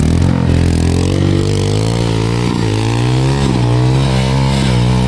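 A motorcycle engine running loud and close, its pitch rising and falling as it revs repeatedly, no voices.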